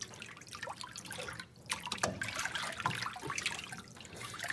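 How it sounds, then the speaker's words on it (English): Warm water running over corn kernels being rinsed for Native American corn soup, a steady close splashing and trickling with small drips throughout. "So we try to rinse with warm water just because it keeps the corn warm."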